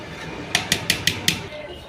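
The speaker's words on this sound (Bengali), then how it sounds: "তো চালটাকে একবার এভাবে নেড়ে দেবো।" Soaked rice stirred in a pot of hot water gives five quick, evenly spaced scrapes and knocks against the pot, fairly close and clear over a low background hum.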